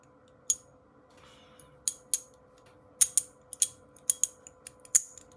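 A Geeone fidget toy is popped repeatedly with a thumb, giving crisp, close clicks that come in irregular bursts against a quiet background.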